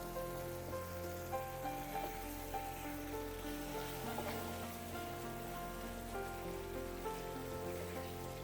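Carrot and ghee are stirred together in a hot pan, giving a steady soft sizzle and crackle that runs throughout at low volume.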